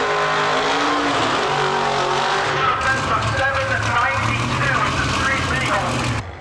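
A 1957 Pro Street Corvette, a street-legal drag car, roars loudly with squealing tires and a harsh, rising engine note that drops into a lower rumble, while someone talks over it.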